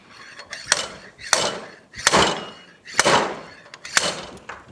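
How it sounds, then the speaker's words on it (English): A slide hammer puller strikes repeatedly while pulling corroded prop shaft seals from a Yamaha F225 outboard, giving five sharp metallic impacts at a steady rhythm of roughly one per second, each followed by a scraping ring, close and loud. "we are going to end up using this slide hammer puller"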